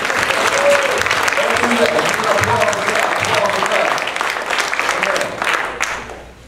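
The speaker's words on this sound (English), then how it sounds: "clap for Jesus" A church congregation claps at a service, a dense, loud wash of hands that holds steady and then tapers off near the end, with voices mixed in.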